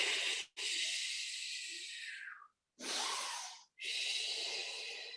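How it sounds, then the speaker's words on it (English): Heavy, hissing breaths drawn in and pushed out during a Pilates exercise, three long close-up bursts separated by short silent pauses. "Listen to the breathing."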